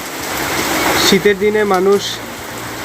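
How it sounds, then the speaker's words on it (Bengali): Heavy winter rain pours steadily in a Bangladeshi village courtyard already flooded with water, a constant broadband wash that continues under a voice speaking close by. "দেখছেন, একবারে অভাবনীয় বৃষ্টি।"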